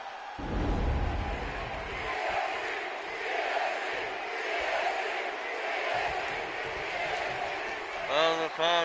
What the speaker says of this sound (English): the crowd behind Bianca Belair here